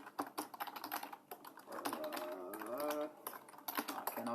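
Keystrokes tapping on a computer keyboard while logging into a Linux homelab management server from a terminal, clustered in uneven bursts and heard close up, with talk and some background sound over parts of it.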